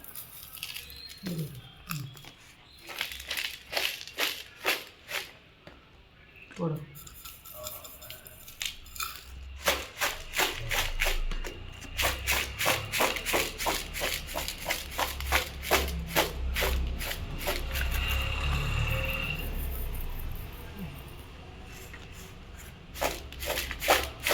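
A container of citron pickle with rock salt is shaken by hand, producing bursts of gritty rattling and crunchy scraping in uneven rhythmic runs, near and fairly loud, with a few brief pauses between shakes.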